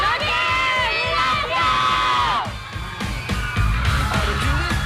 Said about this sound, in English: Hundreds of screaming fans turned up with the Singapore Idol magazine to get it autographed by their favorite idols.